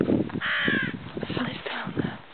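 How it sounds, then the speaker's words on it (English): A large black bird, apparently a crow, caws loudly and close by in a long, harsh call, with a person talking over and around it. "Big ass bird flying around."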